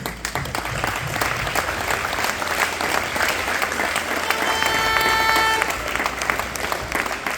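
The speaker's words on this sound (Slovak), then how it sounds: "Patrí vám veľký potlesk." Audience applause at a school dodgeball championship awards ceremony in a hall, sustained loud clapping from a large crowd, steady throughout with a faint tonal whine partway through.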